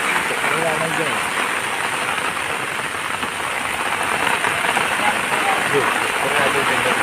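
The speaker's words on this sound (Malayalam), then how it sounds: "മഴ എത്തും അതാ തുടങ്ങി." Heavy rain pours steadily on an outdoor spot during rural net fishing, a dense, even hiss of drops hitting surfaces that continues without a break.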